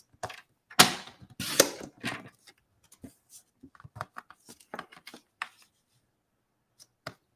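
Scissors or a trimmer cut card stock for handmade folded cards, a quiet near-field run of scattered crisp snips and clicks, louder early and then sparser, with no talking.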